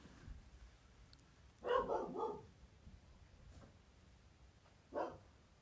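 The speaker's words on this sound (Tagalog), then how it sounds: "pati yung mga aso ko tumatahol na kasi nagugutom na sila" Hungry pet dogs barking in a home kitchen while pork kare-kare simmers, a short cluster of several barks followed after a pause by one more single bark, fairly faint against quiet background.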